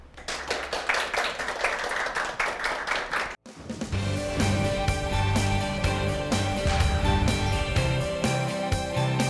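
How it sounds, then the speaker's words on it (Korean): A lecture-show audience claps to welcome a marketing speaker, with brisk, dense handclaps for about three seconds, then a sharp cut to steady background music. "청산 뉴스 임준수 과장님의 강연을 박수로 청해 보겠습니다"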